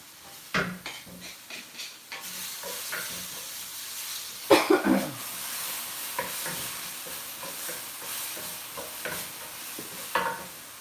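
Minced garlic sizzles and crackles in a hot clay pot, a steady frying hiss broken by spoon stirring and scraping knocks, close and alone without talk.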